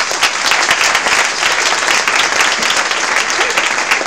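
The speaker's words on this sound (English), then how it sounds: "give a warm round of applause for our panel" A roomful of people at a forum panel claps steadily, a dense, even round of applause with no voices standing out.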